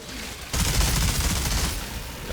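A minigun fires in the game Outriders, starting abruptly after a brief lull into a loud, continuous roaring burst of rapid shots that sustains to the end.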